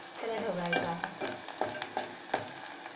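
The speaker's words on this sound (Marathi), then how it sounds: "कांदा आपल्याला थोडासा यामध्ये बारीक कापून घालायचा आणि थोडा ब्राऊन होईपर्यंत त्याला ढवळायचा आहे।" Finely chopped onion sizzles in hot oil in a pan for a Malvani fish curry tempering, with a spoon scraping and stirring in several distinct strokes over the steady frying hiss.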